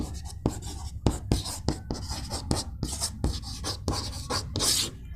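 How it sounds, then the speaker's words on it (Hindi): Marker or chalk strokes on a board during a Hindi chemistry lesson, a run of quick scratchy rubbing bursts with brief pauses, fairly close and steady, with no talking over them. "मैग्नीशियम रिबन जो है मैं ऐसे लिख देती हूँ"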